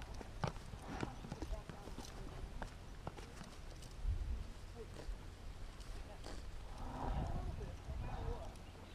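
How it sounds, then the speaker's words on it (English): Hooves clip-clop at a slow, uneven walking pace, faint and somewhat distant, with low rumbling background and occasional voices. "I'm so glad they found those horses."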